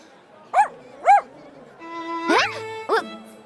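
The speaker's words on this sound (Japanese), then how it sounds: "ワンちゃん？" A dog in the video game Princess Connect Re:Dive gives two short, clear barks, then a longer whimpering yelp and one more bark over soft background music.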